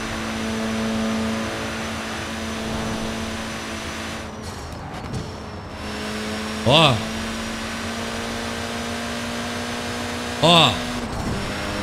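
A turbocharged Honda Civic Si with a rally turbo engine in Forza Horizon 4 drones steadily at a constant pitch, while a man twice cuts in with short vocal exclamations over it.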